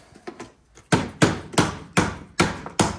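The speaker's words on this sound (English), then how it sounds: "sometimes you can grab the end or take a little hammer" Sharp metallic taps from a small hammer striking an aluminum door frame during a screen installation, six firm evenly spaced blows after a few lighter knocks.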